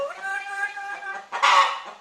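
A chicken clucks and squawks close up, a drawn-out call followed by a short louder squawk.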